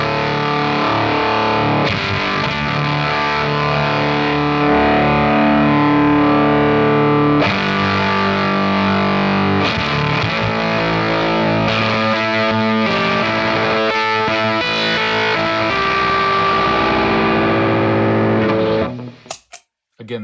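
Grind Fuzz pedal with its swell switch off, played into a clean amp: thick, saturated fuzz guitar chords and sustained notes, loud and dense, cutting off abruptly near the end.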